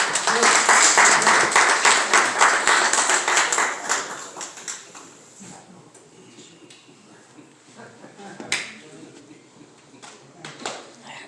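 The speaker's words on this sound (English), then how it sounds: "Let's give him a hand clap" Audience hand clapping at a clergy council holiday brunch for a council member, loud and dense for about five seconds, then fading to a few scattered claps and light room noise.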